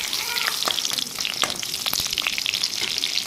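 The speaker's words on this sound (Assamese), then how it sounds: "দিলোঁ তেজপাত, দিম কেঁচামৰিচ, এতিয়া আমি অকণমান এইটো ভাজি ল'ম" Bay leaf and green chili fry in hot oil in a home kitchen pan, giving off a continuous close sizzle with crackling spits and the occasional scrape of stirring.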